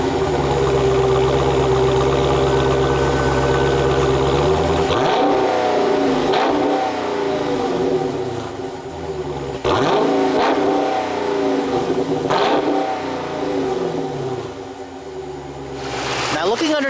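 A 2016 Dodge Challenger R/T Scat Pack's 6.4-liter, 391-cubic-inch V8 idles loudly up close, then revs in repeated sharp bursts with a deep, rumbling exhaust note.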